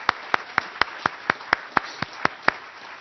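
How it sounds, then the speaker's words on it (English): Sparse, evenly spaced claps from a small group at an outdoor university alumni center groundbreaking ceremony, about a dozen sharp hand strikes in a steady rhythm, moderately close, with no talk over them. "Let's give her a round of applause as well."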